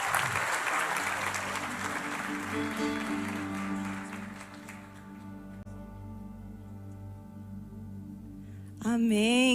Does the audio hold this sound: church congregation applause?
yes